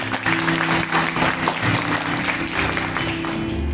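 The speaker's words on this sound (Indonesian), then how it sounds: "Yang diberkati Tuhan, beri tepuk tangan yang paling meriah buat Tuhan" A church congregation claps loudly together during a worship service, a dense, steady burst of applause with a low hum beneath it that lasts the whole few seconds.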